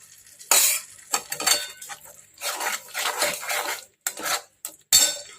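A spoon scrapes and clinks against a pan while paneer masala is stirred, with irregular metallic strokes and short gaps, close and fairly loud, no talking.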